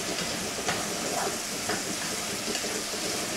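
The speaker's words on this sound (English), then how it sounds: "So we're gonna let it saute in there" Mushroom filling sautéing in a pan with no added water gives a steady, even sizzling hiss that fills the whole stretch close by, with a few faint clicks and no talking.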